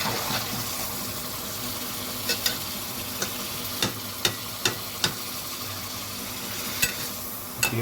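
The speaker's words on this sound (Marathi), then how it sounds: "तेल गरम झालेलं आहे. आपण त्यामध्ये लिव्हर परतून घ्यायची आहे." Chicken liver frying in hot oil in a pan: a steady close sizzle with scattered sharp stirring scrapes and clicks of a utensil, no talking.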